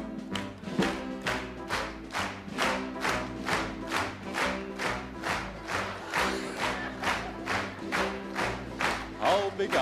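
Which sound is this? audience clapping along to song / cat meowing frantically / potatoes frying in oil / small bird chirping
audience clapping along to song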